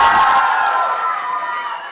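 At a corporate trade event, an audience cheers and applauds, a brief loud burst of crowd noise with voices that fades slightly over a couple of seconds.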